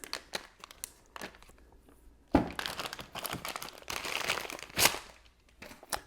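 A Ziploc plastic bag holding a Ryobi cordless tool battery is handled up close, giving repeated crinkling and crunching rustles in bursts with short quiet gaps, with louder crinkles near the middle and the end.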